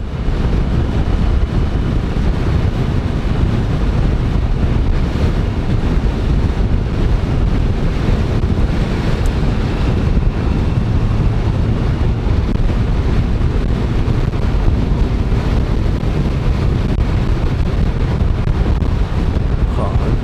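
A Kawasaki Ninja H2 SX SE sport-touring motorcycle riding on the road, with heavy, constant wind rush buffeting the microphone and the engine buried beneath it for the whole stretch.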